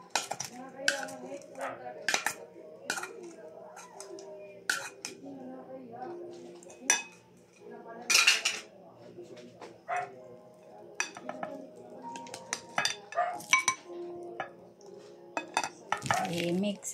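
Utensils clink and scrape against a bowl while a crab stick (kani) salad is mixed, a steady run of close clatter and chinks with a few louder knocks.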